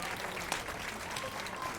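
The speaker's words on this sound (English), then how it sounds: "don't golf clap it" Light, scattered golf-clap applause from a small crowd in the Witcher III video game, a continuous soft patter of hands with a faint voice or two underneath.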